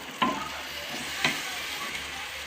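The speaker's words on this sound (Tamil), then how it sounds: "நல்லா மொறு கிறிஸ்பாக வர வரைக்கும் நல்லா வறுக்கணும்." Food fries in plenty of hot oil until crisp, a steady close sizzle with two brief sharp utensil taps, and no talking.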